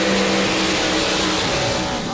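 Alcohol-fueled altered drag racing cars do side-by-side burnouts, a loud, sustained engine roar with revving filling the whole moment, while an announcer talks over it.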